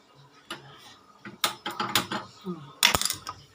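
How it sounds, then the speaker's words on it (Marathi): A gas stove is lit in a home kitchen while cooking bitter gourd, with a series of sharp mechanical clicks from the igniter knob in irregular bursts, close and fairly loud, with no talking. "गॅस पेटवते आहे."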